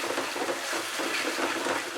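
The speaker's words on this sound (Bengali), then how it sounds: "টমেটোটা দিয়ে আমি আরো কিছুক্ষণ মশলাটাকে কষিয়ে নেব" Spice paste with tomato puree frying in a pan over medium heat, a dense, steady sizzle and bubbling crackle heard close and alone.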